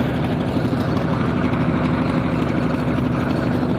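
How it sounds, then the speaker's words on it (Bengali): A trawler engine drones loud and steady as the boat moves through deep water at the Meghna river mouth, a constant low throbbing hum with no pauses and no voices. "গভীর জলের মাঝখান দিয়ে ট্রলারটা বয়ে চলছে সামনের দিকে"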